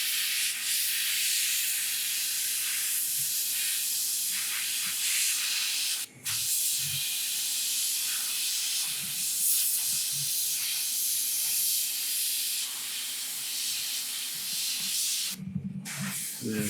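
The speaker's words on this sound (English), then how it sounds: "I pull the triggers because I'm trying to release the dry tip I got on the airbrush" An airbrush hisses continuously and loudly as its trigger is held to clear a dried tip, a broad airy rush that drops out for an instant and later cuts off briefly, with faint low knocks beneath.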